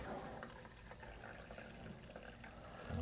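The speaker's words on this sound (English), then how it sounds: "You pour in the tea." Tea poured from a pot into a cup at a St. Patrick's Day tea demonstration, a continuous soft splashing trickle lasting a few seconds at moderate level.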